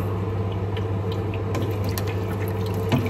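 Filtered water pours into a cooking pot while making chicken sopas, a steady splashing trickle with light drips over a low kitchen hum.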